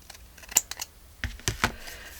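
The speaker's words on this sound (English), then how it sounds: "I need to trim that off a little bit" Scissors trimming a paper rose on a handmade matchbook-style journal give a few sharp, close snips and clicks with quiet pauses between them.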